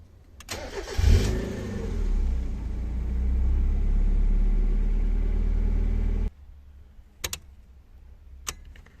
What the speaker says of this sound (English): Just gonna turn the engine on